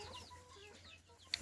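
Free-range country chickens on a village poultry farm, soft scattered clucks and murmurs from a few hens, faint and fairly distant in a quiet setting.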